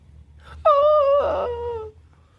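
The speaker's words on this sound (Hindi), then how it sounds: "बच्चों के रोने की आवाज यही है, शेरा।" Children crying as a sound effect: one drawn-out, high-pitched wail that rises sharply, holds and trails off over about two seconds, loud and alone against a low background hum.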